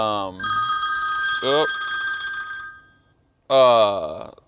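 A phone rings with a sustained electronic tone, sandwiched between bursts of a person speaking nearby.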